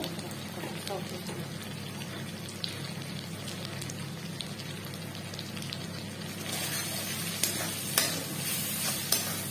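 Ground spices such as cumin, chili and coriander being fried and stirred in a pan for a Bengali prawn malaikari, a steady soft sizzle with scraping stir sounds, growing livelier near the end.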